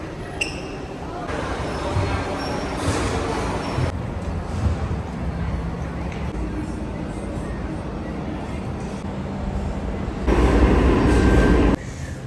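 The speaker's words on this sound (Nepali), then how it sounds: "अब म ट्रेन चढेरै जान्छु" A train rumbling along with a steady low roar, growing louder near the end as it passes close by; no talking.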